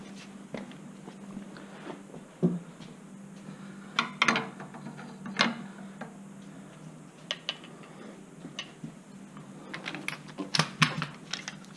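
Torque wrench clicking repeatedly while wheel hub bolts on a Chevy Spark are torqued to spec during a rear hub bearing repair, sharp close clicks at irregular intervals over a steady low background hum.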